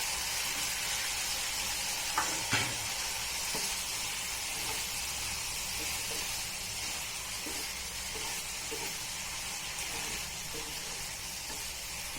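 Potatoes frying in a pan of hot oil give a steady, loud sizzle and hiss that runs unbroken from start to finish, with a few soft clinks and scrapes scattered across it.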